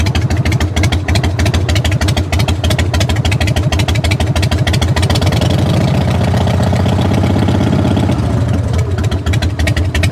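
A Plymouth Roadrunner with a sticky throttle idles loudly and close by at an outdoor auction lot, with a lumpy, pulsing rumble and a brief rise in revs midway.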